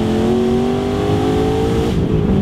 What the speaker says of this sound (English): This Whipple supercharger definitely wakes up the car.